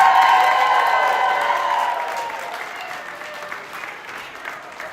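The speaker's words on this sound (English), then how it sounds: "Can we also get a big round of applause for tonight's DJ" An audience at Arts Court in Ottawa applauds the night's DJ with a dense, loud burst of clapping that gradually tapers off over several seconds.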